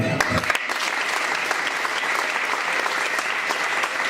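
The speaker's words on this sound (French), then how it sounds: "On peut applaudir pour cette personne-là." Church audience applause fills the room, a steady, crackling wash of many hands clapping at an even level, with a few sharper claps near the start.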